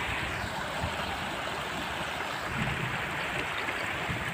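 A rain-swollen mountain stream in flood after heavy rain in Himachal Pradesh rushes in a continuous, dense, moderately distant roar with no pauses.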